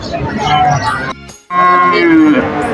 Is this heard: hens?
no